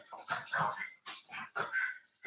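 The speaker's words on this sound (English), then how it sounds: "My dogs decided to go berserk as soon as I started streaming" Several dogs barking and yipping in a series of close, fairly loud bursts with short gaps between them, at home.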